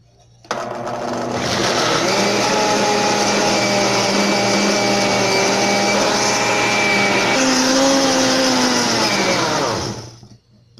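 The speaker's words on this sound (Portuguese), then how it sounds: "E vamos bater bem esses ingredientes para ficar uma mistura bem homogênea e cremosa." An electric blender whirs loudly and steadily as it blends pineapple juice and other ingredients for a chilled pineapple dessert. The motor starts abruptly, holds a strained, slightly wavering whine for about ten seconds, then cuts off.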